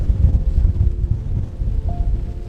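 Loud wind buffets and rumbles against the microphone with a rushing wash of rain, a continuous blustery roar of outdoor stormy weather.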